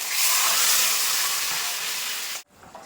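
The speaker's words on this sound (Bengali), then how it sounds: "তো দেখো বন্ধুরা ঝোল কিন্তু খুব ভালোভাবে ফুটে গেছে" Rohu fish curry broth with potatoes and ridge gourd boiling hard in a pot, giving a loud, steady steamy hiss that cuts off abruptly near the end, leaving a quieter background.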